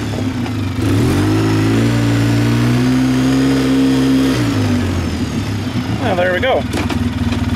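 A serviced ATV engine idling and revving close by, a loud rough mid-pitched drone rising and falling in pitch, with someone talking over it toward the end.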